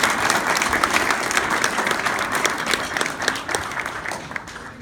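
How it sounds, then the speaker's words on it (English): A crowd at a US Marine Corps 240th birthday event breaks into loud, steady applause that carries on throughout, with many hands clapping at once. "Give them a round of applause."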